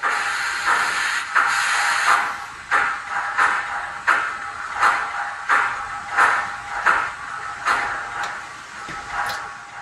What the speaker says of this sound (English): we do have auto cylinder cocks enabled, so you will hear them right now.